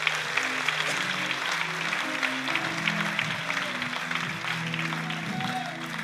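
Church congregation clapping steadily throughout, a dense, sustained applause with a low sung or spoken voice running underneath.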